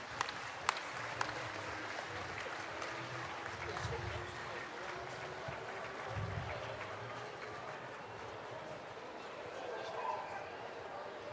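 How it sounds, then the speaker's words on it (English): Sustained audience applause fills a large arena at the Sydney Royal Dog Show during a Best in Show lap of honour, a steady crackling wash of clapping with a faint voice beneath it. "keep the applause going as she does her lap of honour"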